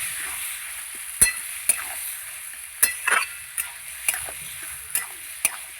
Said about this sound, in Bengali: এই মাংসটাকে সময় নিয়ে খুব ভালো করে কষিয়ে নেব